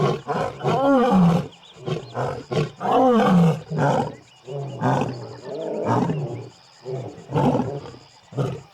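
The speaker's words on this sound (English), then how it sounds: "You cannot get sick of a lion roaring." A wild lion roars in a long series of deep, rumbling calls, each swelling and fading in a rhythmic sequence, loud and close with no other sounds competing.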